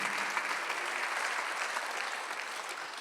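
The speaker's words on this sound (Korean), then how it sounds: "박수하세요" A church congregation claps during a Sunday worship service, an even, continuous wash of many hands at moderate volume with no voices over it.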